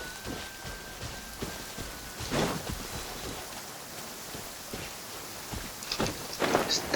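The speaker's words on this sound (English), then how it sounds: "This heavy rain must be quite an inconvenience for you." Heavy rain falls in the Genshin Impact video game, a steady hissing downpour with soft low rumbles and slight swells toward the end, with no voices.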